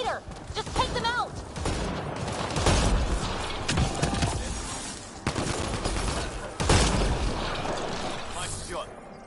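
Sustained bursts of sci-fi weapon fire from a Mass Effect Andromeda firefight against Remnant machines, loud and continuous with heavy impacts at intervals, while characters talk over the combat.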